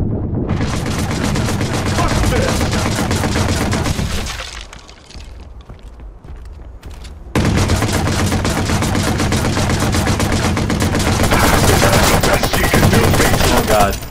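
Gunfire in the video game Watch Dogs, loud dense bursts of rapid shots with breaking and shattering debris, pausing briefly to a quieter rumble before a second sustained barrage.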